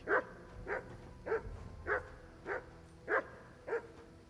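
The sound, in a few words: dogs barking in video game Kingdom Come Deliverance 2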